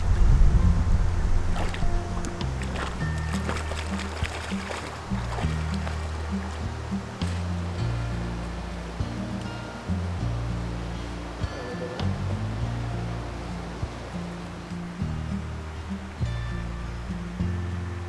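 A creek flows steadily near a campsite on a road trip toward Tofino, a continuous soft rush and babble of water with small splashes and knocks throughout, close by and moderately quiet, with no talking.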